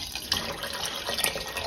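Water splashes and trickles into a kettle for dyeing, a close, continuous pouring rush at moderate loudness with no talking.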